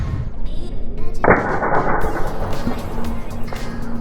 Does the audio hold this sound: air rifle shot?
yes